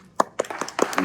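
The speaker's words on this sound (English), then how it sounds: "let's give Joe a round of applause" Brief scattered handclaps greeting a moderator at a city mayoral candidate debate, a few sharp separate claps building toward light applause from a small audience.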